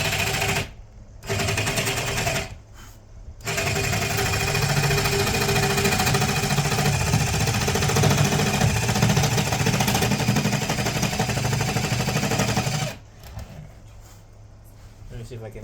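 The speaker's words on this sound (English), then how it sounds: "Let me see if I can do the famous jigsaw cut where you put it on the side of it" Jigsaw with a reverse-cut blade cutting, a loud rapid buzzing chatter close by, starting and stopping in a few short bursts before a long continuous run, then quieting down near the end.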